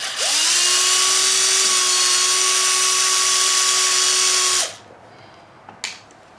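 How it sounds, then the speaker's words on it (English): A cordless drill driver whirs steadily at close range for about four seconds while backing screws out of a Rock Rey RC truck, then stops abruptly, followed by a couple of brief clicks. "I know I'm cheating. I'm using a drill driver."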